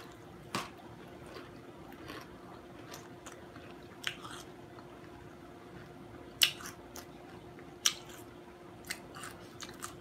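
Biting into crispy fried whiting fish: soft, close crunches and chewing sounds spread out over ten seconds, quiet and scattered, with no talking.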